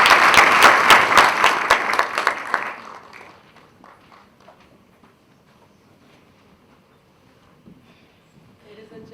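Rhythmic, energetic applause at a university launch event, strong unified clapping for a few seconds that quickly fades to scattered claps and near quiet.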